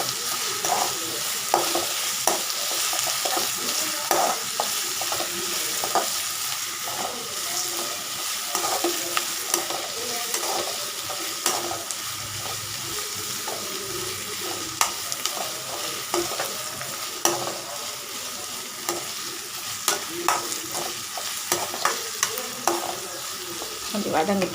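Onions and tomato sautéing in a pan with a pinch of salt, steady sizzle under repeated stirring scrapes and clicks of a spatula, close and moderately loud for a long stretch.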